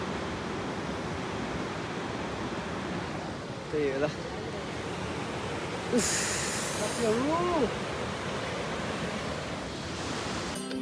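A mountain river on the Manaslu circuit trek in Nepal gives off a steady, loud rushing roar. Brief voices of trekkers talking come through over it.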